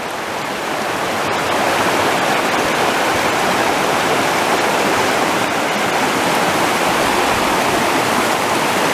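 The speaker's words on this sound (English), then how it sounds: "You could probably cross the river here if it wasn't running so hard" The Rose River in Shenandoah National Park running hard after splitting around rocks, a loud, continuous rushing roar of fast water heard close up without a break.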